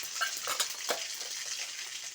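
Mustard seeds fry in hot oil in a pan, giving a dense, steady crackle with quick bright pops scattered throughout, close and alone.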